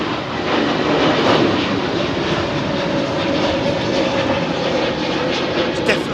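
A Turkish Airlines Airbus A321 jet departs London Heathrow, heard as a steady, loud, broad engine roar with a sustained hiss that holds evenly throughout.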